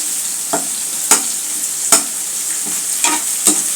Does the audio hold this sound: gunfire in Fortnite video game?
no